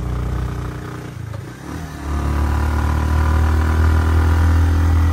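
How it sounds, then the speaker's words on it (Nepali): A motorcycle rides along a forested mountain road near Nagarkot in cold air. Its engine hum swells to a steady, loud drone after a brief dip, with wind rush over it and no talking. "भटभटे कुदाउँदै"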